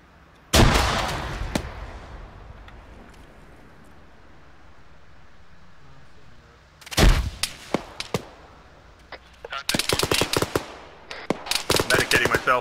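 Frag grenade blasts in a first-person shooter go off in bursts, a loud boom near the start, another around seven seconds, then a dense clatter of gunfire and detonations toward the end, with a voice calling out between them.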